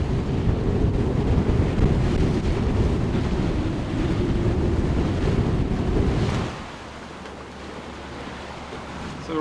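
Wind roars across a microphone aboard a sailboat beating upwind in winter, with steady loud buffeting and water rush that drops abruptly to a quieter hiss after about six seconds.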